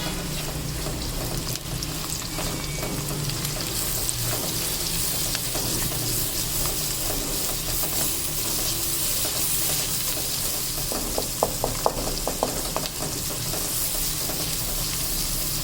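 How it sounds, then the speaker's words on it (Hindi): Continuous crackling sizzle of ginger garlic paste frying in hot oil, close up, with a few spoon scrapes near the end. "और अब ये जो अदरक लहसुन का पेस्ट है ये डाल देंगे। ठीक है, इसको भी थोड़ा सा भून लेते हैं।"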